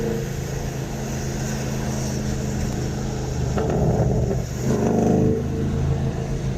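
A tuned BMW M850i accelerating hard on a race track, its engine note a loud, steady in-cabin drone that swells and rises in pitch partway through, with no talking over it.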